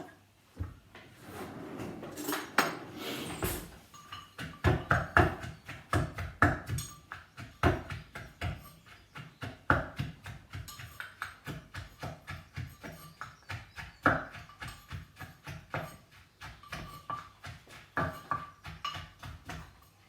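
Ingredients for a mushroom soup are pounded in a mortar with a pestle, a long run of sharp, rhythmic thuds coming close and fairly quick, with short pauses and uneven strength between strokes.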